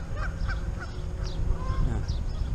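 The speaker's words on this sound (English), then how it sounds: "Those geese are over there having a ball." Geese honking repeatedly at a moderate distance near a fishing spot outdoors, calls overlapping in a loose chorus over steady background noise.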